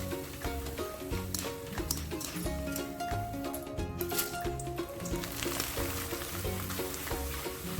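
Cornflakes fry in hot oil with a dense, continuous sizzle and crackle, steady and close throughout, with faint clinks of stirring in the pan.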